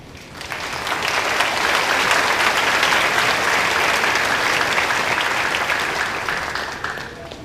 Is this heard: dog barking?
no